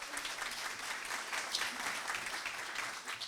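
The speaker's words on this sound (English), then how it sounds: "So you can applaud after that opening statement." Audience applause fills the hall after an opening statement at the 2025 leadership contest debate in Charlottetown, steady and dense clapping from a crowd throughout, fairly distant with no talk over it.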